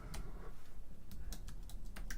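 Typing on a small computer keyboard, heard as scattered quick clicks with brief pauses, close but faint over a steady low room hum.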